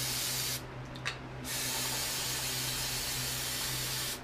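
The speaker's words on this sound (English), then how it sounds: "And just spray that all the way out and also clean out our oil filter cap here." Brake cleaner sprayed through a reusable metal oil filter on a race bike: a loud, close aerosol hiss that cuts out briefly for under a second, then resumes and holds steady to the end.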